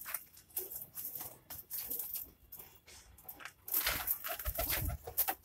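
A Punjabi pigeon, a pure Malwai breed, is let go and its wings clap and flutter in quick bursts, with softer rustling and brief pauses between flaps.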